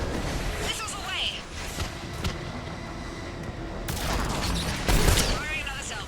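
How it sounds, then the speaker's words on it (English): Missile launches in a video game air battle: a dense, rumbling barrage of booming bursts and whooshes, with heavy explosive swells near the end, mixed under ongoing talk. "Missiles away."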